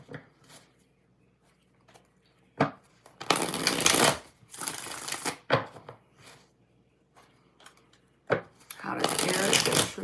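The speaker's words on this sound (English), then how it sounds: "Six shuffles." Tarot cards are shuffled in several loud riffling bursts with quiet pauses between them, close by and with a few brief clicks.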